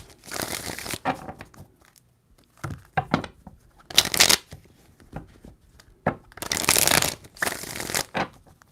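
Tarot cards are shuffled in several quick riffling bursts, each a crisp papery flutter, separated by pauses and small taps.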